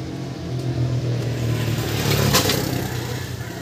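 Kia Bongo JT 3.0 engine idling after a tune-up and valve clearance adjustment, a steady close-up running hum with a slight rise in the middle and no talking.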